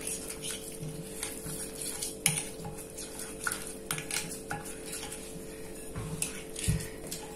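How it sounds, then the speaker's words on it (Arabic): Butter, about half a cup, and three large spoons of oil are stirred in a bowl for homemade chips, with irregular utensil clinks and taps against the bowl over a faint background hum. No one speaks. "غنحرك هاد المكونات"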